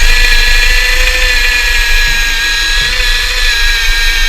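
A power drill whines loudly and steadily at high pitch while boring through a wooden beam, its motor briefly straining and dipping a couple of times as it bites.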